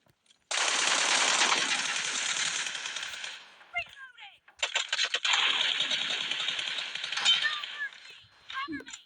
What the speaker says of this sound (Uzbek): men miltiq tashlayman. M416 da o'ynayman.